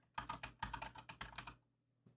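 A sentence is typed on a computer keyboard in close, quiet bursts of rapid clicking keystrokes, pausing briefly mid-way and ending with a single faint tap after a short silence.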